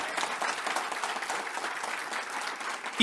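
An audience at a speech bursts into loud, sustained applause, dense clapping filling the whole stretch with no talk over it.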